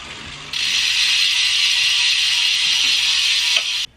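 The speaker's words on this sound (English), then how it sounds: "it wouldn't be a wheel review without a free hub sound check for you nonces out there" A WINSPACE Hyper disc bicycle wheel's freehub ratchet spins, giving a loud, continuous high-pitched buzzing clicking for about three seconds before abruptly stopping.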